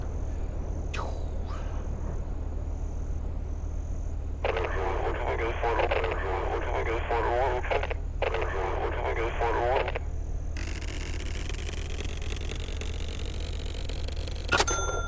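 A small airplane in the Aviassembly video game runs at full throttle, its engine a steady drone under shifting game tones and warbling alert sounds, then a rising high whine toward the end.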